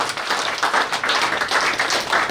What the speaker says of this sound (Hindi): एक बार जोरदार ताली अपने लिए बजाएं सभी लोग।